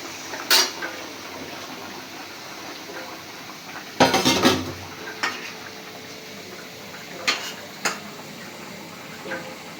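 A pot of fish cooking with tomatoes clatters as it is handled and covered, giving a few separate metallic clanks and knocks, loudest around the middle, over a low background hum.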